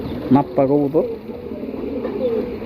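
Pigeons coo in a short burst of low, rounded calls near the start, then fade into a softer warble over background noise; the birds are a single female among several breeds kept for sale in a loft.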